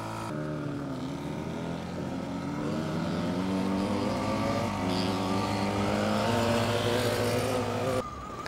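A Talaria Sting R MX4 electric dirt bike rides a mountain single track trail, its motor whining in a steady, close, rising and falling tone that runs continuously with wind rush, then cuts off near the end.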